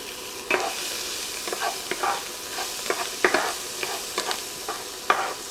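Celery and onion sautéing in butter in a pan: a soft, steady sizzle with irregular stirring scrapes and taps recurring every half second or so, close and moderately quiet, with no talking.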